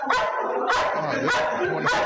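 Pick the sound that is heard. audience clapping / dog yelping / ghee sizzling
dog yelping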